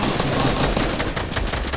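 A burst of rapid, loud gunfire crackles throughout in a shooter video game, dense and continuous with no pauses and no voices.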